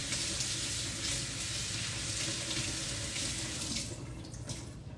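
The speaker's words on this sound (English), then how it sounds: "So I'm gonna wash this first, just to get rid of some of this dirt." Tap water runs steadily into a sink while a Chinese soup ingredient is rinsed of dirt, a broad continuous splashing rush that eases slightly near the end.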